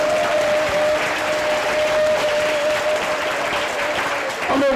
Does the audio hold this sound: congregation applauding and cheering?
yes